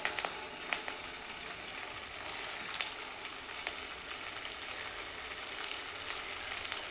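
Potato rings deep-frying in oil for a crispy snack, a continuous bubbling sizzle with a few soft clinks early on, close and steady without speech.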